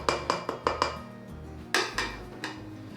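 A spoon knocks and scrapes against a mixing bowl as natural creamy no-stir peanut butter is scooped in: a quick run of five light taps, a pause, then a few louder, ringing clanks.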